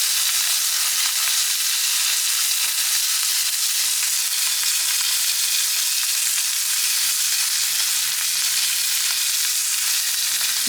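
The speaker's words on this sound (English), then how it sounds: "put it on the very, very hot cast iron skillet. Lots of sizzle." A steak sears in a very hot cast iron skillet greased with beef tallow, giving a loud, continuous sizzle and crackle that holds steady throughout.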